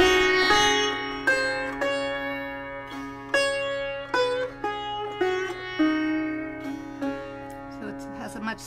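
A sitar climbs and descends the scale of Raga Gaudsarang, each plucked note ringing with bright metallic harmonics and slides over a constant drone of sympathetic strings, alone and close.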